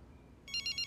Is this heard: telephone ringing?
yes